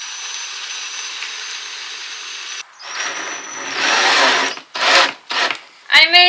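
A power drill drives ordinary screws into a wooden roof beam on a van conversion, a whine at first, then several short bursts of whirring and grinding separated by brief pauses.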